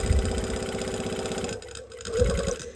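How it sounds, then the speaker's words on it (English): A sewing machine stitches along a seam on a vest, its fast, even needle rhythm running close and steady, stopping briefly, then starting again for a short burst. "I'm just going to sew along that stitch line"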